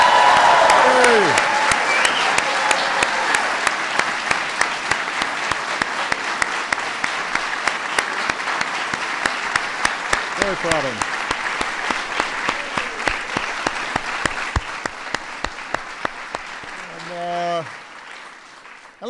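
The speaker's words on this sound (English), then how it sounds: "Let's give another big round of applause to our honorees." Honorees of the National Medal of Science at a White House ceremony draw sustained applause from the audience, loud and even at first and slowly fading, with someone speaking briefly over the clapping.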